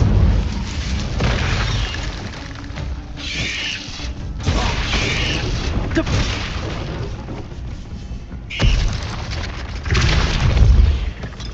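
Incendio fire spell cast in the Hogwarts Legacy video game, heard as loud booming bursts and crackling blasts that come in several waves over a continuous rumbling game soundscape.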